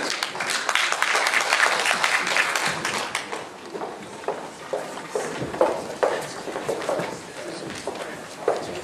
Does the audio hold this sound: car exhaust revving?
no